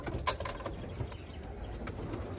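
A pigeon coos softly nearby at a loft, a low faint murmur over steady background noise, with a few brief clicks and rustles.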